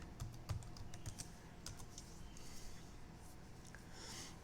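Quiet, close clicking of a computer keyboard as a command is typed into a terminal, irregular keystrokes in short bursts with faint room noise.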